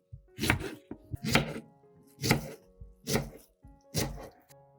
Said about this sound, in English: slice the bananas into pieces about 3 to 4 centimeters thick